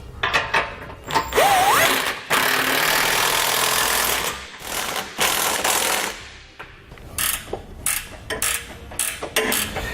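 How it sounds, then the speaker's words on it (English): Under a 2018 Mercedes-Benz GLC, a ratchet with an 18mm socket tightens the nuts on a Curt trailer hitch and the bumper beam. Long, close runs of rapid clicking are followed by a string of shorter, choppy bursts. "I'm going to come back with that 18mm socket, and we're going to tighten up all the nuts that are holding our bumper beam and hitch in place."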